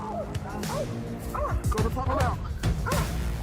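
Police K9 dogs yelp and bark during an arrest after a high-speed chase, sharp overlapping barks heard amid constant noise and muffled voices and commotion.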